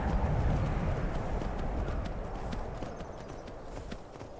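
Horse hooves clip-clopping in the video game Skyrim, a steady trotting rhythm of close, repeated hoof strikes over low rumbling, gradually easing in loudness.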